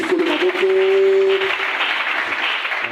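A church congregation claps and cheers during a Sunday service, with a sustained burst of applause and a brief sung or shouted tone rising over the crowd noise.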